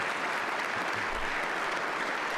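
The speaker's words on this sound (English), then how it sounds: "And so then you get the big applause and everybody stand." Audience applause during a radio broadcast, a steady, dense wash of clapping that runs the full length at moderate loudness, with no speech over it.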